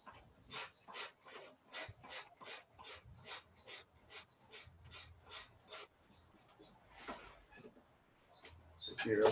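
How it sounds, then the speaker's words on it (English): A 6-inch half-round rasp shapes a wooden bow handle in a steady series of about fifteen close, rhythmic scraping strokes. A few slower, softer rasps follow. "This is a half round rasp, I think 6 inches long."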